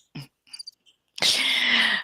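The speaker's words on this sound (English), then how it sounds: "And the crickets will chirp." Crickets chirp in a loud, steady, shrill burst that fills the last second after a few faint scattered sounds.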